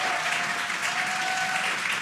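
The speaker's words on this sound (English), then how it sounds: "You can hear the crowd here." Crowd applause and cheering at the Crew-9 Dragon Freedom splashdown, a steady dense wash of clapping that stays close and even throughout, with no voices standing out.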